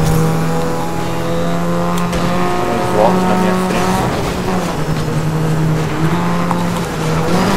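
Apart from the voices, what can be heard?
race car engine in racing video game Grid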